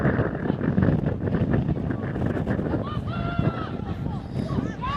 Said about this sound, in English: You see the wind starting to really play havoc with it, gusting up over 10-15 miles an hour now.